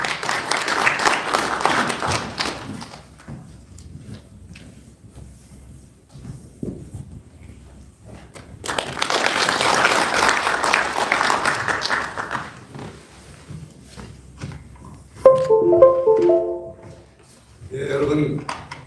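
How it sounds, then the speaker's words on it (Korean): At a policy seminar in a National Assembly conference hall, an audience welcomes a lawmaker to the stage with two bursts of applause. Quieter stretches and talk come between them, and a short tone sounds near the end. "큰 박수로 환영해 주시기 바랍니다"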